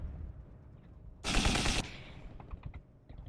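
A short, loud burst of machine gun fire from the video game Drone Shadow Strike lasts about half a second amid a low ambient hum, followed by faint scattered clicks.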